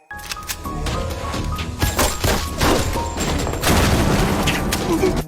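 Gunfire in a film scene, a dense run of loud sharp shots and booming cracks with thuds, close and continuous across several seconds.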